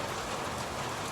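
Steady rain falls on a rural property, a dense, even hiss of drops that stays constant and fairly loud throughout, with no voices.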